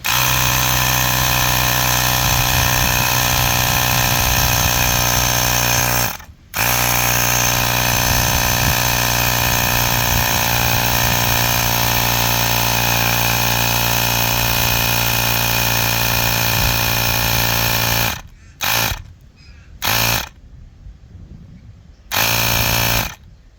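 A Ryobi power inflator pumps up a car tire with a loud, steady motorized drone that runs continuously, cuts out briefly once, carries on, then stops and starts in short bursts at the end.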